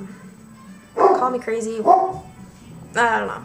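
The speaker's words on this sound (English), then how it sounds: "That was my dog in the background." A dog barks in the background in short bursts, partly under a woman's speech and partly between her words, fairly close and moderately loud.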